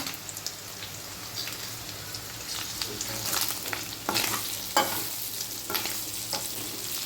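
Green chillies sizzle in a pan of hot oil for chicken pickle, a dense crackling hiss close by with occasional louder spits and stirring scrapes throughout.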